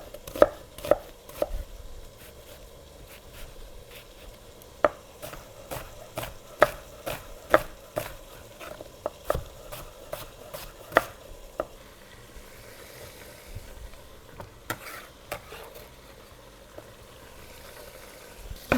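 A knife chops an onion on a cutting board in a home kitchen with sharp, close, rhythmic taps, quick runs of strokes broken by short pauses and growing sparser toward the end.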